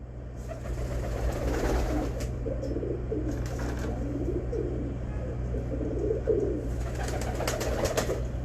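A prized Pakistani pigeon with a silver ring coos softly and repeatedly nearby, layered over a steady low hum and faint background chatter of other birds.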